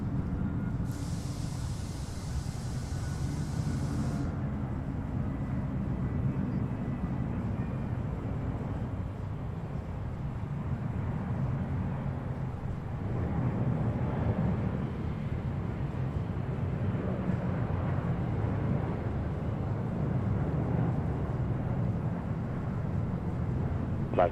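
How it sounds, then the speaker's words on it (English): A Boeing 777 jet at Seattle airport gives off a steady, distant broadband roar that holds at an even level throughout. "That appears to be a 777."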